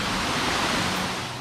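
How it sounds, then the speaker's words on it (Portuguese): Cachoeira da Usina, a 45-metre waterfall at Ecoparque Sperry in Canela, roars as a steady, loud, broadband rush of falling water, heard close and alone. "Chegamos na nossa última cachoeira, cachoeira da usina."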